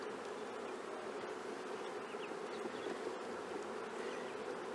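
Honey bees buzz steadily around an open hive frame in a tropical apiary, a dense, continuous drone of many wings close by, with no talking over it.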